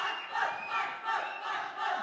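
Studio audience at a Telugu television entertainment show roaring and cheering after a singer's performance, a loud, sustained crowd noise rising and falling in waves, with no distinct clapping standing out.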